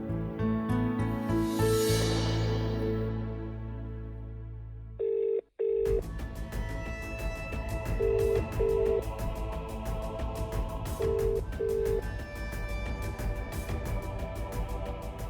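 A telephone is dialed, with a string of short beeping key tones in pairs at even intervals over a steady background tone. Earlier there is a descending ringing, and no one speaks.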